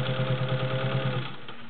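Vintage Singer 201-2 sewing machine with potted motor stitching through eight layers of thick cotton upholstery fabric, a fast, even mechanical whir with rapid rhythmic needle beats that stops after about a second, heard close and alone.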